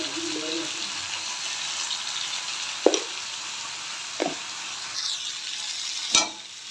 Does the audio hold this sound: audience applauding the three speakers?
no